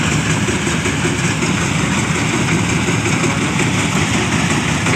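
The engine of a ragi harvesting machine idles steadily nearby, a loud constant low rumble with an even mechanical chatter and no pauses.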